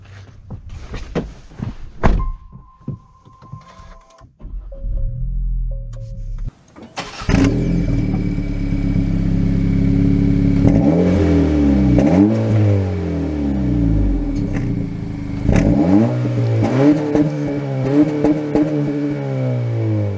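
A 2023 Acura Integra manual with the A-Spec tech package: a few short clicks and knocks, then the engine cranks and fires about a third of the way in, settling into a loud, close idle broken by repeated rising and falling revs.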